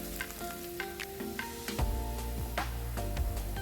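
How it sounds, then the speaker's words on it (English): Chopped onions sizzle in heated oil in a heavy-based pan over medium heat, a steady close frying hiss with faint ticks and scrapes of stirring, no voices. "Start by adding your chopped onions to the heated oil in a heavy based pan set over medium heat"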